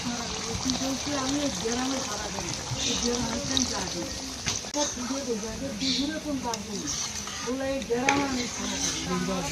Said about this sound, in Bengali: কষানো হয়ে গেছে, এবার পরিমাণ মতন জল দিয়ে দেবো।